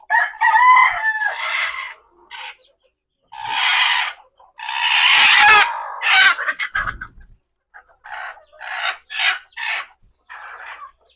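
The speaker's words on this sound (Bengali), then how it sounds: "ওই দুটো মুরগি কুচ্ছে হয়েছে আর এই দুটো একটা গামলার মধ্যে বসে আছে" Chickens cluck and a rooster crows nearby in a backyard coop, loud bursts separated by short silences.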